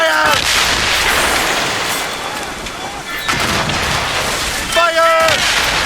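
Ship cannons firing a broadside during a naval battle in Assassin's Creed Rogue, a dense, loud, sustained roar of booming blasts with shouted voices breaking through at the start and end.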